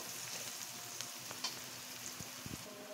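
Washed red lentils hiss and sizzle in a pan of fried onion, garlic and chili, a faint steady frying crackle with a few brief clinks from stirring.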